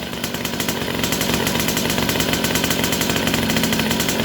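A small motorcycle engine, its side oil pump just adjusted, runs steadily with a dense, rapid throbbing close by, the throttle held up for the whole stretch without pauses.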